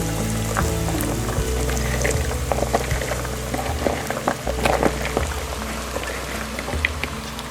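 Okra sizzles steadily in hot oil in a pan, a dense continuous crackle with scattered pops, heard close and fairly loud over a low steady background hum.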